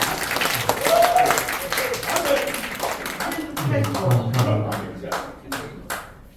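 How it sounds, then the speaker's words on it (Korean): An audience at a Korean church association gathering claps to welcome a former university president to the podium. Scattered, moderately loud applause mixes with a voice speaking over a sound system. "나올 때는 박수로 환영해 주시기 바랍니다."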